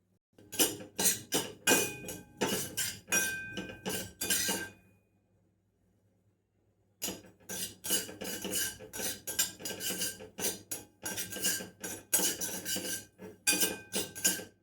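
Poppy seeds dry-roasting in a pan with no ghee, stirred with a metal spoon that scrapes and clinks against the pan in quick bursts, then a pause of near silence before the scraping resumes steadily and close by.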